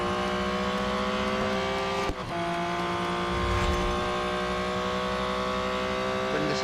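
A race car roars through the Real Racing 3 mobile game, its engine holding a steady high drone with brief tire noise and a short dip, while a commentator talks over it.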